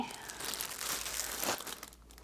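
Plastic packaging around a set of Cretacolor MegaColor pencils crinkles and crackles steadily as it is handled and pulled at, close and fairly quiet, with a brief louder rustle near the middle.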